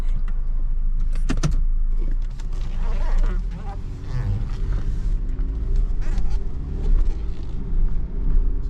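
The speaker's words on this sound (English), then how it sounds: "we're just gonna drive around this parking lot pretty slowly" A car rolls slowly around a busy parking lot, giving a steady low engine and road rumble with faint rattles and clicks, while people talk over it throughout.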